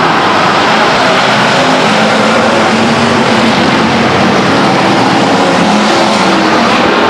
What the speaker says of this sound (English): Racing going on all over the racetrack.